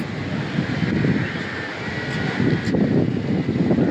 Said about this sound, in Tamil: காற்றடிக்குது காற்றடிக்குது காற்றடிக்குது